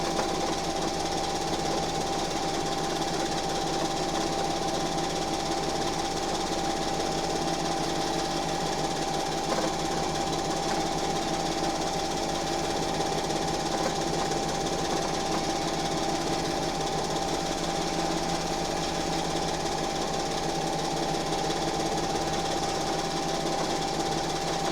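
A sewing machine quilting a quilt runs in a steady, continuous mechanical drone with a constant hum and rapid needle chatter, close and even in loudness throughout, with no pauses.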